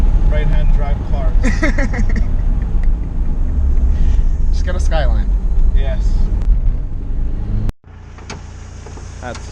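A Mitsubishi Lancer Evolution 4 rally car with its 4G63 engine rumbles loudly from inside the cabin while people talk over it, then the noise drops sharply to a quieter idle.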